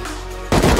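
Automatic AK and Tommy gun fire in Rust, a quieter stretch of tonal noise suddenly broken by a loud close burst of rapid shots at the end.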